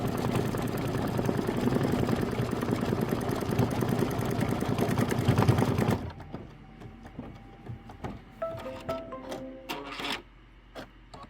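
Sewing machine rapidly stitching a decorative outline on a small quilt, a dense continuous mechanical whirr for about six seconds that then stops, leaving quiet clicks and handling noises.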